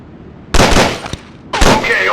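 Two loud, close Beretta M9 (Model 92) pistol shots on a firing range in Conflict: Desert Storm 2, about a second apart, each with a short ringing tail.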